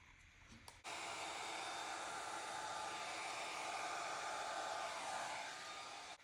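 A hair dryer blows loudly and steadily for several seconds after a brief rustle, then cuts off, used on a pink Dutch pour flower painting.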